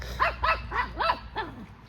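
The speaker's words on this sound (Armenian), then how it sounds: "մեղուների վրա է հաչում" A dog barks at bees five times in a steady rhythm, close and moderately loud, with a whining, yelping edge to each bark.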